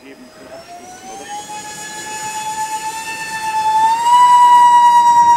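Electric ducted fan motors on an RC Horten 9 model aircraft spool up to full throttle, a loud close whine that climbs in pitch and grows steadily louder.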